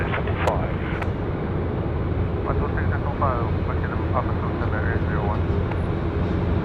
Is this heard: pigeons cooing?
no